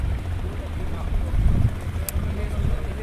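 A boat moves on the Gomti river, heard as a low, steady rumbling drone mixed with wind buffeting the microphone, with faint voices in the background.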